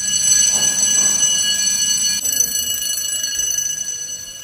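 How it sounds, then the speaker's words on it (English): Fire alarm sounding in a bar or restaurant during a Waterloo trip, a steady high-pitched electronic tone with harmonics running throughout at constant loudness over faint room noise. "leave because of the fire alarm"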